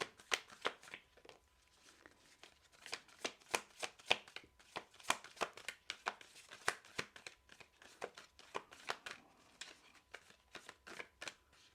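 Large oracle cards being shuffled by hand in a quiet room, a long run of crisp riffling and slapping bursts in an irregular rhythm, close and fairly loud with no talking.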